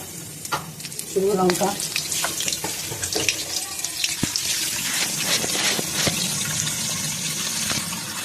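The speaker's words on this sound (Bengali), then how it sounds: "এই তেল গরম হয়েছে, এর মধ্যে দিয়ে দেবো শুকনো লঙ্কা" Dried red chilies hit hot mustard oil in a pan and crackle into a loud, continuous sizzle with scattered sharp pops, close and dense throughout.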